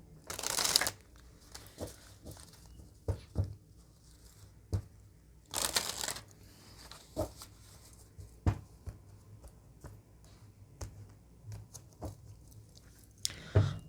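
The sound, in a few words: shuffling a deck of cards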